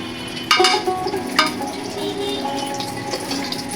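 A tablespoon of ghee sizzles in a frying pan with a steady, moderate hiss, broken by a couple of sharper clinks or stirs near the start.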